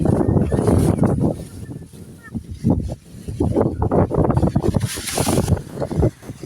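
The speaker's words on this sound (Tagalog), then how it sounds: "Gagi, lakas ng hangin." Strong gusts of wind roar and buffet the microphone outdoors where a flag is flying, loud and continuous with surging bursts, while people talk and exclaim over it.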